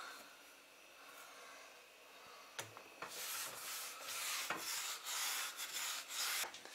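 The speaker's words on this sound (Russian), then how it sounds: "Вот эту стену Ира хочет погрунтовать" A brush scrubs primer onto a wall in close, repeated rasping strokes that start quietly and become brisk and loud.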